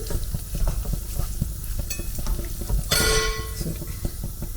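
Cooked ridge gourd being stirred into a South Indian kootu in a pan, with steady scraping and a soft sizzle and a brighter, louder burst of stirring partway through.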